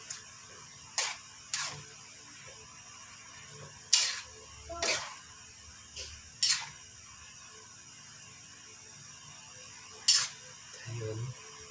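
Noodles with moringa leaves, alugbati and chili being stirred in a pot, a handful of sharp utensil clinks and scrapes spaced a second or more apart over a low steady background.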